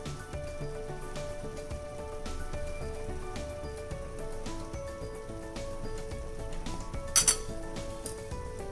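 A lid lifts off a cooking pan of egg masala curry with a brief metallic clink near the end, heard over soft background music and faint kitchen clatter.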